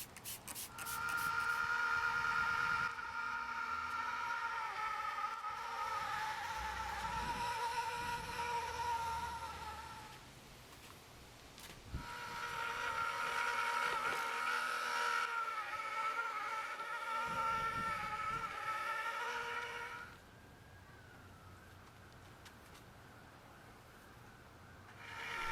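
An electric polisher with a fine 3000-grit diamond pad works a marble table, giving a whining, buzzing motor tone that runs in long stretches, drops off and restarts, close and fairly loud.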